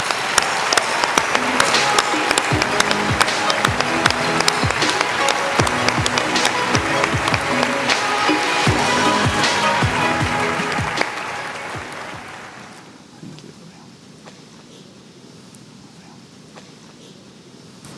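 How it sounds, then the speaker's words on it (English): An audience at a tribute night gives a sustained round of applause, dense clapping that holds steady for about ten seconds before fading away into quiet room tone. "let's just give another round of applause"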